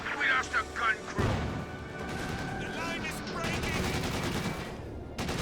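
A DShK heavy machine gun fires in the World War II strategy game Company of Heroes 2, rapid rattling bursts amid other gunfire and explosions, with someone commentating over the battle.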